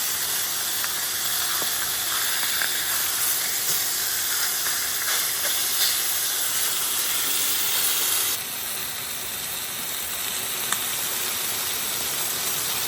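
Food frying in an overcrowded pan gives a steady, dense sizzle and hiss that runs unbroken throughout, dropping slightly in level partway through.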